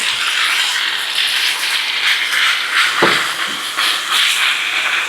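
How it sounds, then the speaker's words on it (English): Seasoned beef pieces stirred around in a hot pan give off a loud, steady hiss of searing, with a single sharp scrape of the utensil near the middle. "Stir them around."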